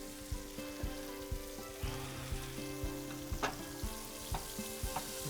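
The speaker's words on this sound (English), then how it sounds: "We got our onions going here." Onions and steak meat frying on a griddle for cheesesteaks make a faint, steady sizzle, punctuated by regular spatula taps and scrapes throughout.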